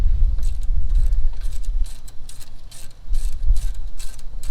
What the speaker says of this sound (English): Let's get the 10mm loose for the brake line.